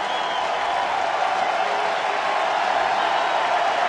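A baseball crowd at a Marlins-Braves game in Atlanta applauds and cheers in a continuous, even roar of clapping and voices that holds steady at moderate volume throughout.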